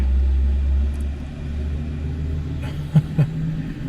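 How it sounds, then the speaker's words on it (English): A loud, low rumble of a heavy vehicle going by nearby, with the engine drone dominating and a couple of brief thumps near the end. "loud truck."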